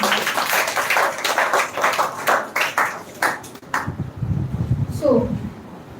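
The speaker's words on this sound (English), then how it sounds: "Clap for him." An audience at a school grand finale event on women's education claps in a burst that fades after about three seconds. Softer room sounds and a few faint tones follow.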